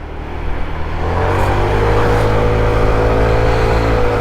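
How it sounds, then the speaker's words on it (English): A car accelerates through city traffic, its engine note rising and building into a steady, close roar with a whirring undertone. "Yep, city traffic."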